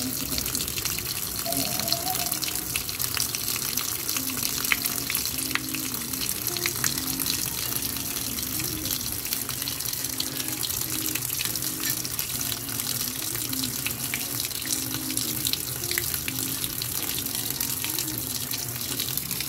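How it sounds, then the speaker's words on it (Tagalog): Water pours steadily into the tub of a Sharp automatic washing machine, a continuous rushing fill with a low mechanical hum beneath, close and fairly loud with no break. "So yan, kita nyo na may tubig na."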